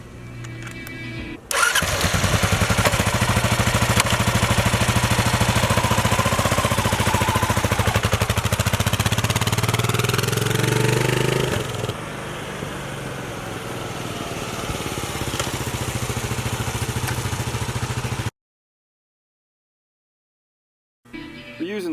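A Kawasaki KLR 650 motorcycle engine with a freshly installed battery starts after a brief crank and settles into a loud, steady running drone close by, shifting tone partway through, then cuts off into silence before a faint return.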